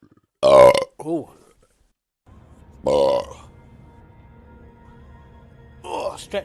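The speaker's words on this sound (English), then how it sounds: "Oh, stretch burp." A man lets out a long, drawn-out burp that swells and fades, followed by a short second burp. After a pause a third stretched burp sounds, close to the mic, with low background hum between them.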